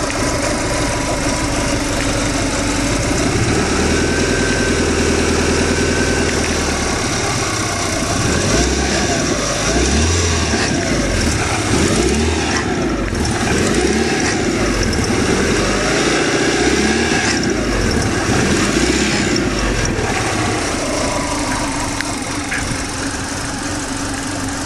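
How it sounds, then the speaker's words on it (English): A repaired car engine idles low and steady, with a rough, slightly knocking mechanical churn that runs continuously and close up, no talking over it. "Now it runs pretty smooth. It's nice and quiet. I think I have to adjust the idle"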